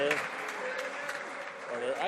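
Members of parliament applaud in the House of Commons, a steady two-second patter of many hands clapping, fairly close and even in level, with voices faintly mixed underneath.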